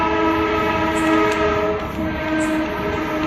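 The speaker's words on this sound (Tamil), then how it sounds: "ட்ரெயின் வேறு வருது." A train rolls past with a steady, loud rumble and strong sustained tonal hum, continuous across the whole stretch with brief high squeals near the start and middle, no voices.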